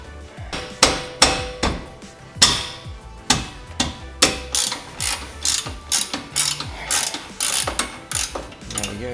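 A ratchet loosens a front brake caliper bolt on a Subaru Impreza, giving close, loud bursts of sharp metallic clicking in a steady back-and-forth rhythm, about a dozen strokes with brief pauses between them.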